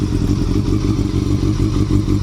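A Honda CBR Fireblade motorcycle engine runs close by with a steady, throaty idle after start-up, a constant low rumble with light mechanical clatter throughout.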